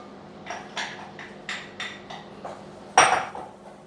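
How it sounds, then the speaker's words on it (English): A utensil clinks and scrapes against a bowl of egg mixture for lemon curd in quick repeated strokes, close by, ending with a sharper knock. "So you give that a good old stir."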